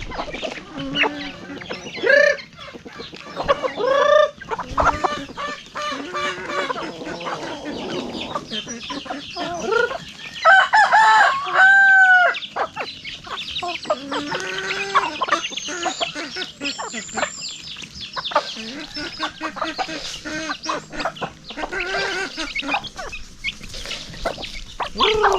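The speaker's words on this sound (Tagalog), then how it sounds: "Pagkain na muna tayo sa mga alaga nating chicken." Pet chickens cluck busily at feeding time, with a rooster crowing partway through, close and lively, the clucks coming in irregular bursts with a voice speaking briefly among them.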